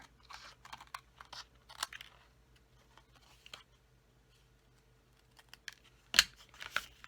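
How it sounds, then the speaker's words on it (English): Small snips trim the excess paper from a paper flower for a handmade card, sharp scattered cuts and crunchy clicks close by in a quiet room, with two louder snips near the end. "we're just going to take our snips and trim off the excess of that flower"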